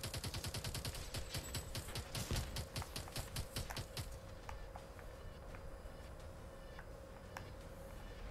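Rapid automatic gunfire from the shooter game Call of Duty: Advanced Warfare on Xbox 360, dense bursts for the first four seconds, then sparser single shots over a steady background hum.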